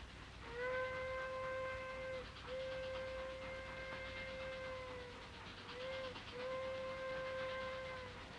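A steam whistle sounds in long sustained blasts, three in a row with brief gaps, over a steady rumbling background.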